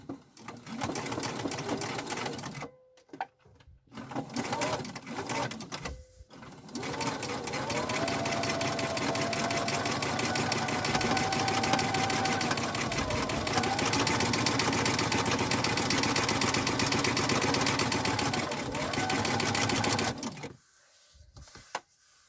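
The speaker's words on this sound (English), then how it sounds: "I'm sewing stood up to show you this" A sewing machine stitches fabric for a reusable advent calendar, running in short bursts at first and then in one long, steady, close whirring run before stopping.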